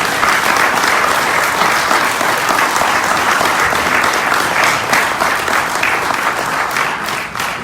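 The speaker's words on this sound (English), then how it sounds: "give yourself a round of applause" An audience at a Los Angeles lecture breaks into loud, sustained applause, dense clapping filling the room steadily for several seconds with no voices over it.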